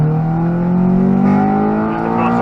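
Honda Civic Type R EP3 engine revving hard under full throttle from about 3,000 rpm, its pitch climbing steadily through the VTEC crossover toward the red line, loud and close from inside the car.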